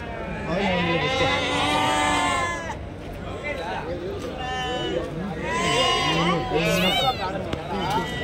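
Many goats bleat at a weekly Saturday goat market, repeated wavering cries near and far over busy trader chatter.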